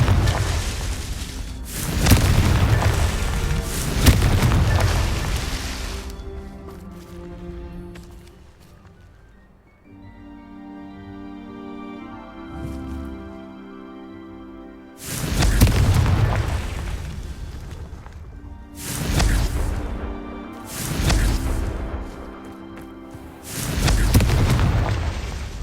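Confringo blasting spells from Hogwarts Legacy burst in heavy booming explosions: a cluster of loud blasts early on, a quieter resonant lull, then several more strong explosive hits spaced a few seconds apart.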